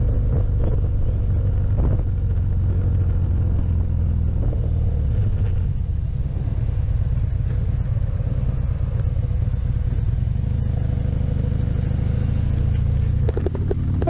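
A motorcycle rides off on the way from Burg Hohensyburg, its engine a continuous low rumble mixed with wind buffeting, steady and loud throughout with a slight rise near the end.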